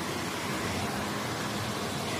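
Steady broadband whoosh of air blowing from a JF Home 50L mobile air cooler running on speed setting 3, a constant, fairly loud airflow hiss with no talk.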